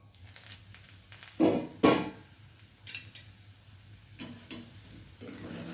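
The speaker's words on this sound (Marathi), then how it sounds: "आपली खिचडी झाली का म्हणून झाकण काढूया" A lid lifted off a pot of fasting-style khichdi, with a couple of loud metallic clatters and scrapes over a faint bubbling, followed by softer stirring sounds.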